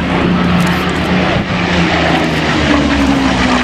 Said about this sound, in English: This is one of the machine gun armed Spitfires.